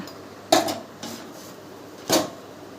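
A spoon clinking against a bowl while mixing omelette batter with a little turmeric, two sharp metallic knocks and a softer tap in between, close up and without speech.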